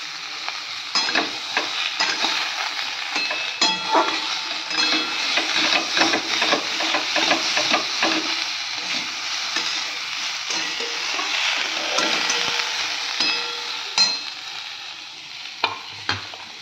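Tomato sizzles loudly as it fries in a pan while a utensil stirs and scrapes with repeated clacks and scuffs, frying hiss running steadily underneath.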